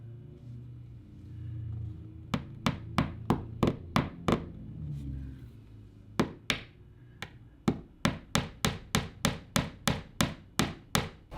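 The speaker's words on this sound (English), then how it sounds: "I'm gonna tack it into the wall at an angle down into the sheetrock." A nail driven at a downward angle into a sheetrock wall with a hammer: two quick runs of sharp, close taps separated by a pause, then a final fast series of blows.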